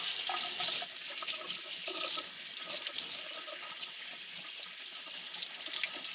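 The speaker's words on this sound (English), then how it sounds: "I just keep running more water over it as I'm peeling it" Tap water runs steadily into a bathroom sink at close range, a continuous splashing hiss with no talk over it.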